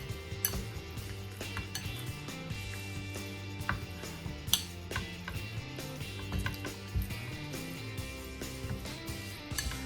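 Stir-fried chilli chicken being stirred and tossed continuously in a pan, with steady close clinks and scrapes of utensil on metal over a busy background hum.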